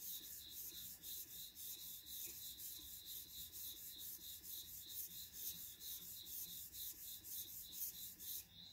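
A chisel is sharpened on a TSPROF KO3 sharpener, giving a steady, rhythmic rasping scrape as the abrasive is stroked back and forth across the steel, fairly quiet and close, with no talk.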